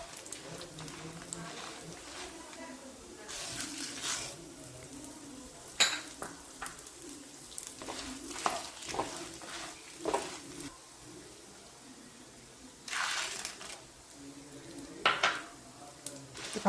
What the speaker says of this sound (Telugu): దాని తర్వాత కందిపప్పు, మినప్పప్పు, శనగపప్పు కూడా దాంట్లో వేసి బాగా వేయించాలి